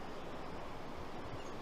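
Floodwater rushes through a river near Manali, a steady, dense roar of churning water with no break, close and fairly loud throughout.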